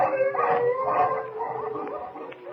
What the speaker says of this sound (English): The wolves are mad with hunger, ready to close in.